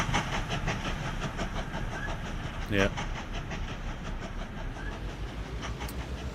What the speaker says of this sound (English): a steam train on the way